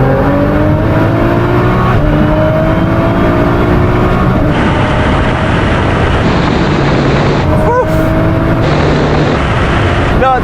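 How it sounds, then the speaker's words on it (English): Nissan GT-R cars in a drag race, rolling on from 50 mph in third gear, roar loudly under full acceleration with rising engine tones and dense road and wind noise throughout. "Right, Sam, what we're going to do this time is 50 mile an hour third gear roll on."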